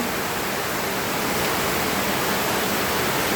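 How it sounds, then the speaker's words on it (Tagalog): Heavy typhoon rain from Typhoon Verbena pours down with floodwater, a loud, steady, unbroken rushing wash that fills the whole moment with no voices. "Simula pa kahapon yung ulan dito sa amin guys."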